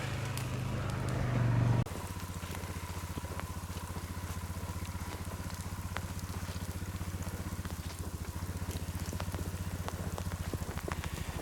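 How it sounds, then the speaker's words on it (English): Steady rain pattering down in the woods at night in winter, a continuous dense hiss with scattered drips, a louder burst at the start, no voices. "It's raining really good now."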